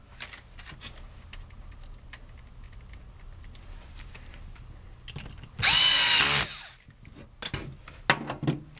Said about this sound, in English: And I'm going to drill it together now.